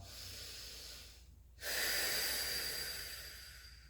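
Forceful, drawn-out exhales during a mobility breathing exercise, a steady breathy rush that fades briefly, then resumes louder and broadband, close to the microphone with no talking.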